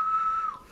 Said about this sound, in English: that immediate whistle, that like synthy whistle you get at the beginning of the song